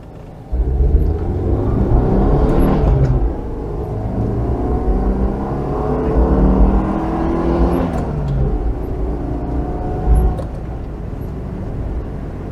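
A Citroen GSA engine hums and rumbles steadily from inside the cabin, rising and easing as it accelerates along the road, with no talking.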